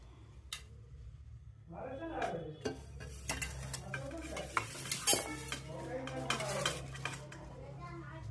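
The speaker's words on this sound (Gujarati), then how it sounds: "મસાલો મિક્સ થાય છે" A spice masala of turmeric, coriander, cumin and chutney with oil, stirred and mixed in a pan for a bitter gourd curry, with repeated clinks and scrapes of a spoon on metal and a soft sizzle underneath.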